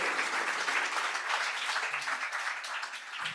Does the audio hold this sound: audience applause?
yes